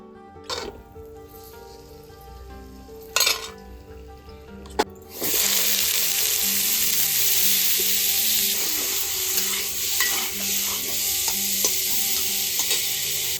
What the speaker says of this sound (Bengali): এঁচড়গুলো ভাজা হয়ে গেছে